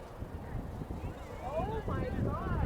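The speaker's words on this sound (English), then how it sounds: "Ooh, getting a little windy, but it's always windy here on Treasure Island." Gusty wind rumbles across an outdoor rugby field on Treasure Island during a women's match, a low steady buffeting with distant crowd voices and faint calls mixed in.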